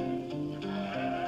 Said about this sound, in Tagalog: Napapaligiran naman pala tayo ng kambing eh.